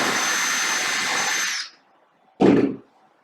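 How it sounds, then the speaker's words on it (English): Power drill boring a hole into timber, a loud steady whirring run for about a second and a half that spins down, then a short second burst after a brief pause. "I'm going to drill a hole in the timber."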